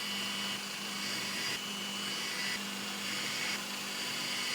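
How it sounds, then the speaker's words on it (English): Drill press running steadily while gently drilling plywood for a zero clearance insert on a Bosch GCM 12 GDL mitre saw, a constant close motor whine with a low hum and no pauses, with no talking. "I'm going to use the drill press and just go very gently"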